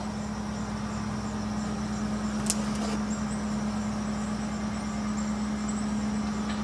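A tractor engine idles steadily from across a street by a highway, a constant low hum running unbroken throughout, distant and moderately loud with no one talking.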